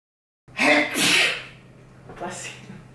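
A loud, close sneeze bursts out of silence, followed moments later by a softer second sneeze-like exhale.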